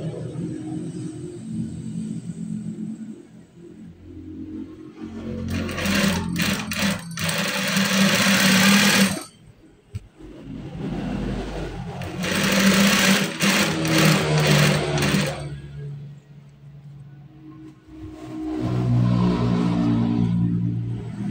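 A sewing machine stitching a garment sleeve runs in long steady bursts of rapid, buzzing needle motor sound, close and loud, with brief stops between runs and no talking.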